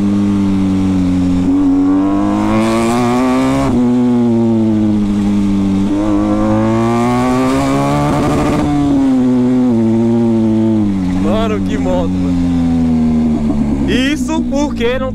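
A motorcycle engine in Dynamic riding mode revs hard and holds high, climbing and dropping in long sweeps, loud and close, with a voice briefly audible near the end.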